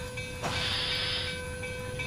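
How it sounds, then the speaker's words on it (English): A steam locomotive in the Railworks train simulator chuffs with a few broad hissing bursts of exhaust over a steady rail rumble and a faint whine, with no voices. "the sounds of the chuffing are very different as well"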